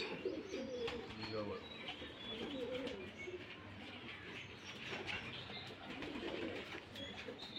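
Rajshahi Giribaz pigeons coo softly and repeatedly close by at a pigeon farm, low throaty calls overlapping with people talking nearby and a few faint chirps.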